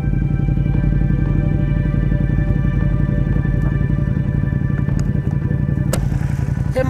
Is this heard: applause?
no